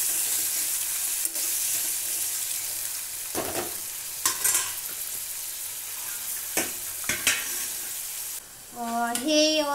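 Tomatoes cooking in oil for spicy brinjal bharit, a constant bright sizzle with a few stirring scrapes, close up, ending with a short tonal beep or chime.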